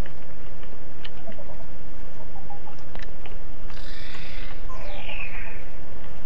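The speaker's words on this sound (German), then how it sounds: "ihr habt doch das Gurgeln vom Spooky gehört" A Spooky creature in ARK: Survival Evolved gurgles in a short, wet burst partway through, followed by a brief chirping warble, faint against a steady low ambient hum.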